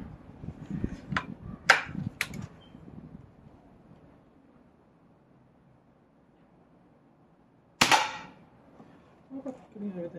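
A Weihrauch HW99S air rifle fires at a target outdoors, giving a few sharp, snappy cracks close together, then a quiet pause before another crisp shot, with light wind in the background.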